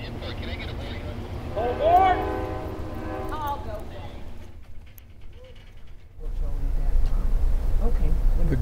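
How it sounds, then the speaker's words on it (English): The Southwest Chief passenger train climbs steep grades toward the tunnel at the Colorado state line, a low rumbling drone that swells near the end, with a voice talking over it early on. "So the train struggles up."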